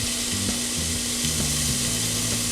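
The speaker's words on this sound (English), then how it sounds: "we're going to take this pound of meat. We're going to throw it in there and start browning it up" A pound of ground meat browns in a pan with onions, garlic and olive oil, giving a loud, steady, close sizzle with faint stirring scrapes and no talk.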